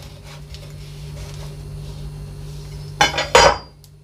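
A knife cuts an avocado in half, giving two short, close knocks and scrapes as the blade meets the pit, against a quiet kitchen background with a low steady hum.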